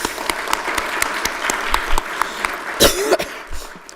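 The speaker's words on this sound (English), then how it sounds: "they need a round of applause" Scattered applause at a Durham county commissioners' regular session, individual claps spaced out and moderately loud, with a cough and throat clearing breaking through partway.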